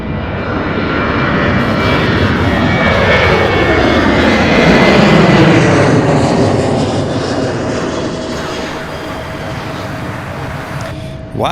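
A heavy UPS freighter jet roars loud and close on the runway, a broad rumbling swell that peaks midway through and slowly fades as it passes.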